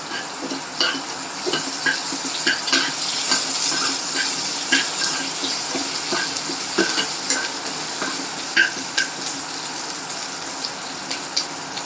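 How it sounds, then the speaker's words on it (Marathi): Hot oil sizzles and crackles in a pan as a tempering with curry leaves is stirred, the spoon scraping and tapping the pan in irregular close bursts over a steady frying hiss. "ही इथे छान फोडणी हलवायची"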